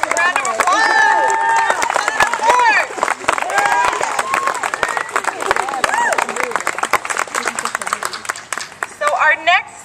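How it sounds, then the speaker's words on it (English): Applause and clapping from a rally crowd, dense and steady throughout, with cheering voices and babble mixed in and a burst of shouting near the end. "Round of applause."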